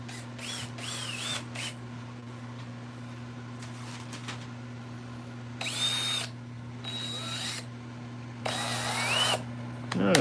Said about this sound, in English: Let me grab the drill real quick.